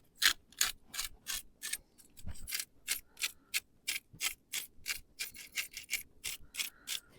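Salt shaker and coarse pepper grinder seasoning food at a campfire on an overnight solo camping trip in the National Forest: a steady run of short, close, dry rasping grinds and shakes in a regular rhythm, with no talking.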